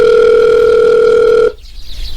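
A steady two-tone telephone signal from a phone booth in a video game sounds loudly and cleanly for about a second and a half, then cuts off abruptly into quiet room noise.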